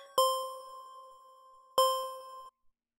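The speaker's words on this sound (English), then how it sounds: "this is a bell using the complex oscillator, which is 1 and 2 in combination, noise, shaper" Synthesized bell tone from the Complex oscillator in Reason 10, two clear metallic strikes each ringing out with a long sustained decay before fading, heard alone.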